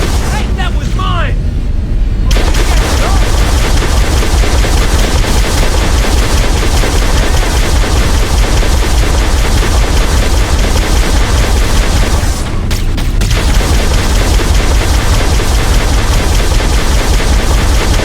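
Sustained gunfire from Halo: Combat Evolved on Xbox Series X, loud and continuous through a dense battle mix with brief lulls, while voices call out over the shooting.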